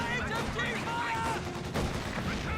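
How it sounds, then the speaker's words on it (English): A mortar shell hits in the Company of Heroes 2 battle, one of a dense wash of gunfire and explosions alongside continuous battle noise and spoken commentary. "Great mortar hit there."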